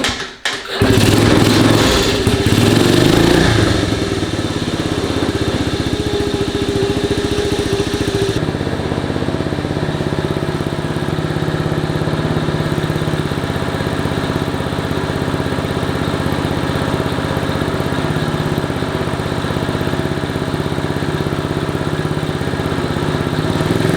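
A Honda CT70 motorcycle with an aftermarket exhaust is kickstarted and catches with a brief burst of revving, then settles into a steady, fairly loud idle that keeps going for about twenty seconds.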